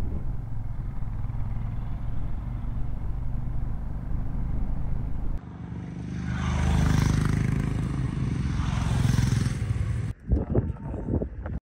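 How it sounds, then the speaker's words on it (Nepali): A line of Royal Enfield Himalayan motorcycles rides on the Manali to Leh road in Ladakh. Their engines drone steadily, the tone shifts and swells midway, and the clip ends with brief rustling bumps. "सबजना हिमालयन बाइकमा गुटुङ टुङ टुङ टुङ टुङ"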